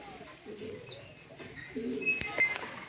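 Soft cooing from Pakistani high-flyer pigeons in a farm loft repeats in low murmurs, with a few faint chirps and a couple of sharp clicks in a quiet indoor space.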